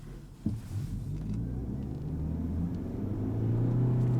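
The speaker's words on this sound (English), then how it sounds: "there you can hear it doesn't shift up because it only has one gear and doesn't sound the greatest" Mitsubishi Eclipse Cross plug-in hybrid pulling away on a single gear, a steady engine rumble that drones and rises gradually without any shift break, close and continuous with no talking.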